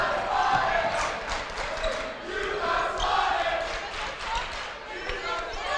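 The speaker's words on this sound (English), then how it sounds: "The rowdy crowd getting into it here. They're loving this." Rowdy home crowd at a Snow College men's basketball game against CNCC: a steady, loud wash of cheering and shouting fills the gym under continuous play-by-play commentary.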